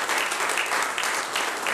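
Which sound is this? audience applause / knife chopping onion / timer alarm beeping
audience applause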